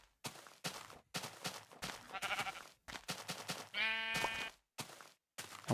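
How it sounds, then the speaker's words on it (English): Sheep bleating in the video game Minecraft, one clear bleat standing out amid choppy gameplay sounds and bursts of noise. "Wait, there was sheep back here."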